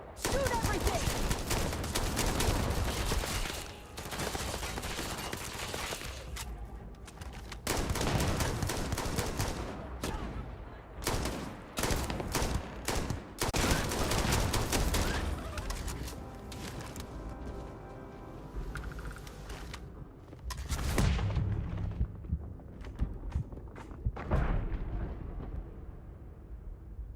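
Gunfire in the video game Starfield, dense bursts and rapid volleys of shots with booming impacts, mostly loud and continuous with brief lulls, while a voice talks over parts of the fight.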